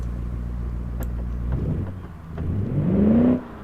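In the game Automation, a muscle car engine idles with a low, steady hum, then revs up in a rising whine that swells loudly and cuts off sharply.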